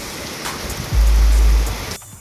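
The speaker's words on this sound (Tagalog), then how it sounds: "Kahit na umuulan, no?" Steady rain hisses across the whole moment during a storm on a fishing outing, with a brief low rumble of wind or handling noise swelling in the middle.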